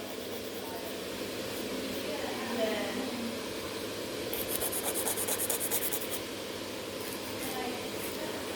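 180 grit nail file scratching across a natural nail, steady close rasping with a faster burst of short strokes in the middle, over a constant background hum.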